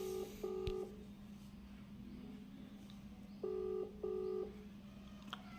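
Phone call tones sound in two pairs of steady electronic beeps, each a short repeated double pulse, over a low constant hum, with a quiet gap between the pairs.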